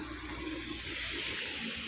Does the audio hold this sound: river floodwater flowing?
yes